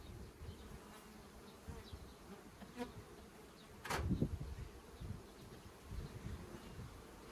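Honey bees buzz around an open beehive during a frame inspection, a steady low drone of many insects with a few louder passes close by, no voices.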